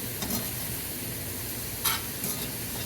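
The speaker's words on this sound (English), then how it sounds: "I'm just trying to grill them, you know. They're already getting grilled onion color." Onions fry on cast iron with a steady, close hiss, and a few brief clinks or stirring scrapes stand out from the constant sizzle. No one speaks.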